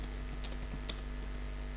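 A computer keyboard typing a vi command: a short run of soft, quick key clicks, quiet and close, over a low steady electrical hum.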